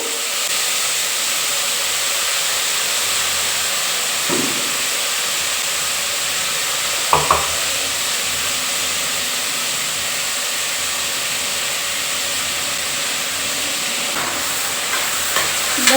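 Soybean and field bean pulao frying in a pan as masala is tipped in and stirred, a steady broadband sizzle and hiss throughout with a few soft spoon scrapes, no talking.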